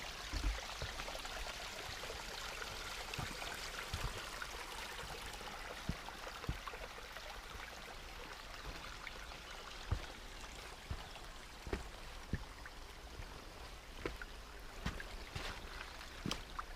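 A stream rushing at the waterfalls along a Black Forest hiking trail in the Xanderklinge, Nagold Valley, gives a steady broadband wash of water throughout, with a few soft knocks and clicks on top.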